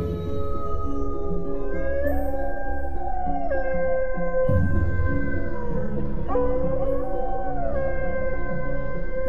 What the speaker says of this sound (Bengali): দূর থেকে ভেসে আসছে শিয়ালের ডাক।